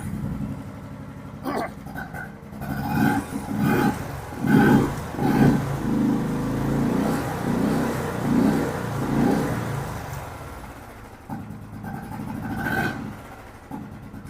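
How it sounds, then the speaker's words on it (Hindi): A Royal Enfield Classic BS6 motorcycle, freshly rebuilt with a new piston and valves, starts and revs in a workshop, giving a loud, close thumping engine note with repeated rhythmic throttle blips that rise and settle. "गाड़ी का साउंड कैसा आ रहा है वो भी एक बार चेक कर लेंगे। तो स्टार्ट कर लेता हूँ मैं।"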